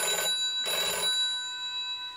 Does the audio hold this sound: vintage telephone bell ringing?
yes